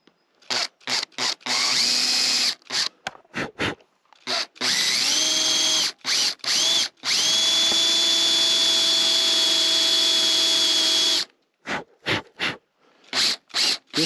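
A power drill drives screws into a T7 GPS stabiliser mount, giving loud, close whirring bursts: several short pulses, then two long sustained runs with a slight rise in pitch, then more quick stop-start pulses.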